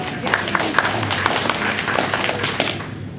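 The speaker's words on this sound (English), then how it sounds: "you ought to give yourselves a round of applause for being here" A Friday-morning crowd gives itself a round of applause, brisk clapping with sharp individual claps and some thumps, with voices audible underneath.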